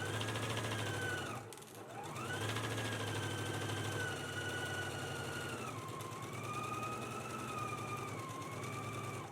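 A sewing machine stitches a spaghetti strap seam at a 3/8-inch allowance with backstitching, a continuous close whir under a wavering siren-like tone; there is no talk.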